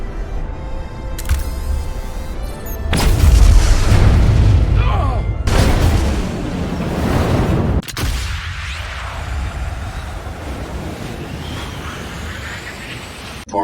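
A deep, loud explosion detonates in the Star Trek: Resurgence video game, a heavy rumbling blast that swells and rolls on for several seconds before fading into the game's ambient sound.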